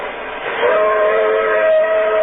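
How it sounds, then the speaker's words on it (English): A single steady train whistle sounds alone for about two seconds, a sustained clear tone that swells in after a moment and holds at a fairly loud level. "It sounded like a train whistle."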